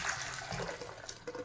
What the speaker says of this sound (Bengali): এখন দুধটাকে এই পাতিলের মধ্যে ঢেলে নিচ্ছি